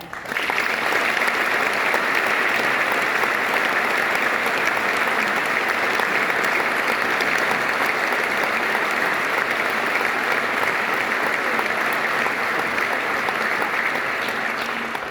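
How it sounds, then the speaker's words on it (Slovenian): An audience at the Slovenian Sportsman of the Year 2022 awards ceremony claps in sustained, dense applause from a large crowd that continues unbroken for about fifteen seconds. "mislim, da bo vesel vašega aplavza"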